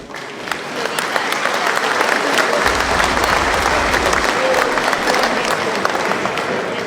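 Loud, sustained clapping from a group fills the whole stretch, dense and continuous, with a few voices mixed in.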